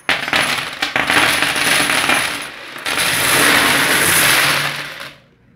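A load of 10-peso coins is poured out of a 1-liter juice bottle, making a loud, dense, continuous metallic clatter and jingle that surges, dips briefly, then rushes again before trailing off into quiet.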